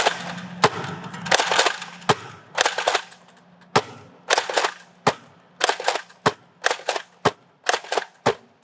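A NERF N-Series Infinite high-capacity blaster fires darts in a quick run of sharp, snappy cracks, about a dozen shots spaced unevenly then settling into a steady rhythm, close and loud with no talking.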